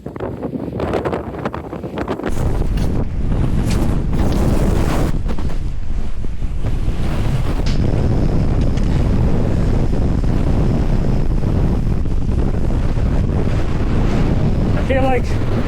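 Strong wind gusting upward on a New Hampshire mountain, buffeting the microphone in constant roaring gusts, loud and close, with no clear speech.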